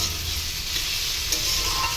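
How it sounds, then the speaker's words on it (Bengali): Steady, loud sizzling of bitter gourd, pumpkin and onion frying in hot oil, continuous and close, with no talking. "তো এখানে উচ্ছে, কুমড়ো, পেঁয়াজ দিয়ে ভাজছি।"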